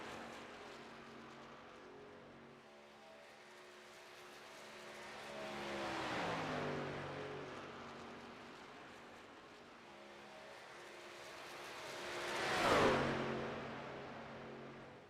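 Race truck engines lapping in an eNASCAR Craftsman Truck Series game at Echo Park: a low steady drone swells twice as trucks sweep past, the second pass louder and nearer, with no talk.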